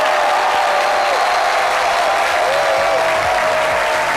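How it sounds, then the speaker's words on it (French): A live studio audience at a French-language midday TV show applauds steadily and loudly. The clapping forms a continuous wash with faint vocal tones riding over it. "Je vous demande d'applaudir Méliane Cuny."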